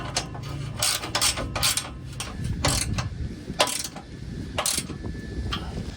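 Exhaust clamps being cranked down tight on a budget NASCAR-style exhaust, a steady run of close ratcheting clicks and metallic tool noises over about six seconds.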